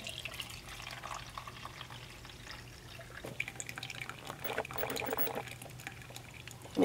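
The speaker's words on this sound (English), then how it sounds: "Making Jessie coffee." Liquid pours and trickles softly while coffee is made, a faint, uneven splashing in a quiet room that grows slightly louder toward the end.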